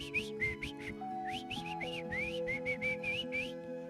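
Short, chirpy whistled notes repeat in quick bird-like phrases over soft background music, a person whistling in imitation of birdsong.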